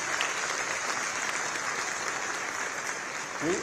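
Steady, dense applause from a summit plenary audience for the panelists, fairly distant and even in level throughout, with a brief voice near the end.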